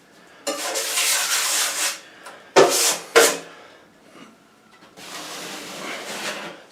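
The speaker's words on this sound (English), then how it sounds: "So I put the mud on." A wide drywall knife spreading mud over a patch, scraping strokes of varying length with short sharp swipes between them, close and fairly quiet.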